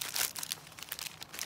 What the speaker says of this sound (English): Crumple it up